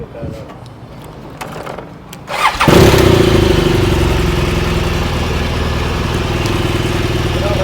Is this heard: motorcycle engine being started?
yes